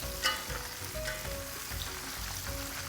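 Shrimp frying in hot oil, a steady dense sizzle with soft crackles and an occasional stir or clink, close by and with no talk.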